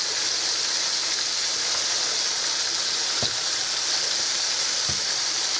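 Cube steak browns in a frying pan with a steady, even sizzling hiss throughout and a couple of faint knocks.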